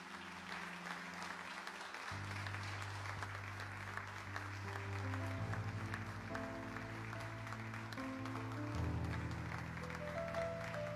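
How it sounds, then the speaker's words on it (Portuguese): A church congregation applauds during a service in a sustained, fairly distant wash of clapping, layered with a low, steady organ or keyboard playing held chords underneath. "E as palmas louvam ao Senhor"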